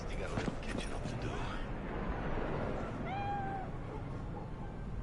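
In Cyberpunk 2077, a cat gives a single clear meow midway through, heard close over game background sound and voices talking.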